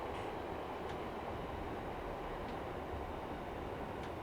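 A Class 700 electrical multiple unit runs in the Train Sim World rail simulator near Rainham, a steady, even rumble of a train moving at about 40 mph that fills the whole stretch with no breaks and no talk.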